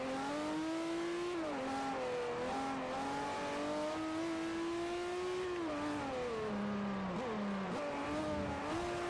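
Racing-game car engine in Forza Motorsport 4, a pre-1975 classic, droning loud and continuous at high revs, repeatedly bouncing off the rev limiter with pitch dips between shifts, alone without talk.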